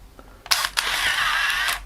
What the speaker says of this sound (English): I can actually press the shutter and it will feed on.